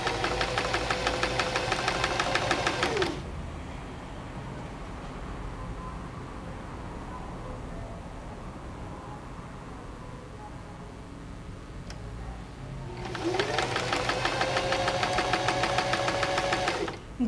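A sewing machine stitches patchwork blocks in two loud, steady runs of rapid mechanical stitching, separated by a quiet pause of about ten seconds.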